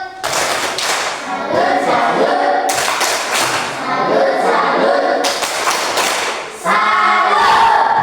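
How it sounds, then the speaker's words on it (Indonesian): Rhythmic group clapping from children in a school classroom after a group presentation during a teacher performance assessment, bursting out in several loud patterned waves with voices mixed in. "Kita beri tepuk salut dulu."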